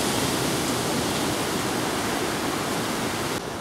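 The River Swale runs high, a steady, loud broadband rush of flowing water that holds constant throughout with no speech.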